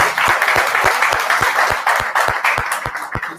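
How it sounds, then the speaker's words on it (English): Close, loud applause at a summit event, with a few hands clapping in a strong, regular rhythm that stands out above the crowd's steady clatter. "Please have a huge applause for them."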